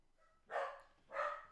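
Two loud barks from a dog, nearby but indoors, spaced about half a second apart with a short gap between them.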